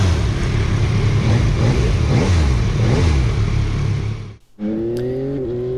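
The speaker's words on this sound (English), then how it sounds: "Okay, gentlemen, start your engine." A 2022 Yamaha XSR900 motorcycle engine runs loud and close, a dense roaring rev that drops out briefly, then the engine fires and settles into a steady, rising idle.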